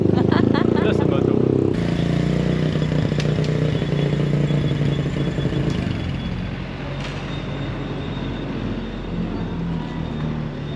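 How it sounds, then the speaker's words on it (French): A motorcycle rides along a road, its engine a steady close drone with wind rumble and some clatter, while people talk over it. "Ça fait du bien faire de la moto, ça me manquait."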